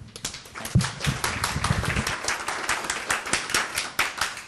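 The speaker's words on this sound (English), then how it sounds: "can we just say applause to greet the Secretary?" An audience at a Hong Kong talk on greening the Pearl River Delta claps to welcome the Secretary, a dense run of sharp, close hand claps with a loose rhythm that stays strong throughout.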